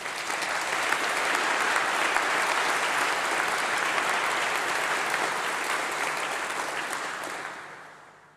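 An audience at a university graduation congregation gives a loud, sustained round of applause, dense clapping holding steady for about eight seconds before tapering away at the end.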